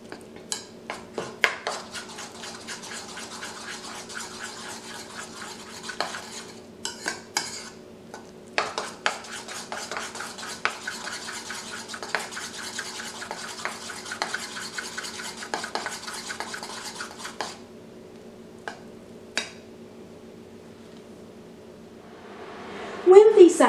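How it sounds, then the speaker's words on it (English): Ingredients for a Puerto Rican beef stew, including minced garlic, are stirred in a pot, giving steady clinking and scraping of a utensil against the pot for most of the clip, with a louder rattle near the end. "Stir all the ingredients until well blended."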